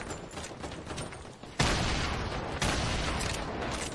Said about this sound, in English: Tino, watch out, grenade launcher